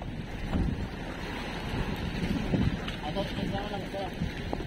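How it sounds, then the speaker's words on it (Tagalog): Gusty typhoon wind blowing through trees, rumbling buffeting against the microphone in uneven surges, with people talking nearby. "pabugso-bugso yung hangin"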